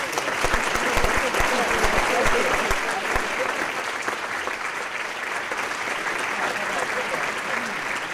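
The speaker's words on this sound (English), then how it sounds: "Let's give him another round of applause." A breakfast event audience gives a round of applause, steady crowded clapping throughout with a voice speaking over it partway through.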